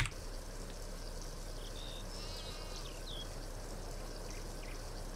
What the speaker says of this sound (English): if you listen and watch, you'll hear the water go in.